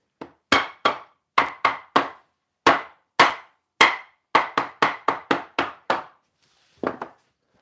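A rubber mallet strikes repeatedly in a workshop, making about fifteen sharp, close thuds in uneven bursts and then one last pair of blows after a short pause.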